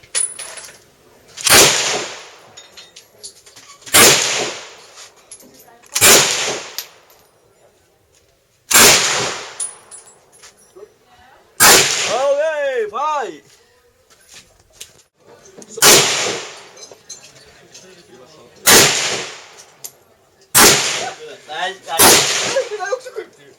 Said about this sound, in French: Je vais essayer un AK-47